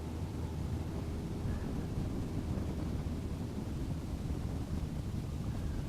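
Wind buffets a microphone outdoors at a campground, a steady broadband rumble that holds loud and constant throughout with no voices.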